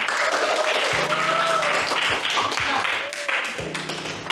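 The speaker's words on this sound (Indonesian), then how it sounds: "Tepuk tangan dulu untuk kita." Classroom applause after a group discussion, busy clapping mixed with voices and a few taps, fairly loud and close.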